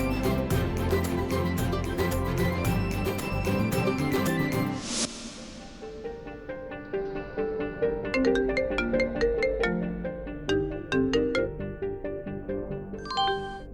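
A phone ringtone plays as a melodic tone sequence, repeating and ringing on unanswered, with a sharp break partway through before the chiming tune resumes.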